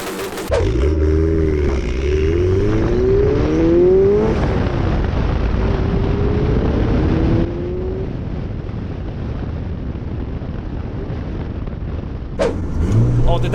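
A 500 bhp turbocharged B16 Honda Civic EF hatchback with anti-lag revs hard and shifts up through rising and falling engine tones, then drops to a rough idle, loud and close, with wind noise.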